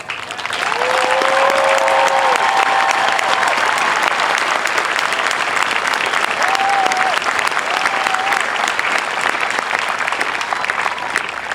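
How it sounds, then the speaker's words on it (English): Sustained applause from a large crowd at an Air Force basic military training graduation parade, steady and loud throughout, with scattered cheers and whistles rising over the dense clapping. "Would you all please stand up and take a round of applause?"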